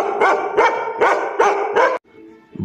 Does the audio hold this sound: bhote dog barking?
yes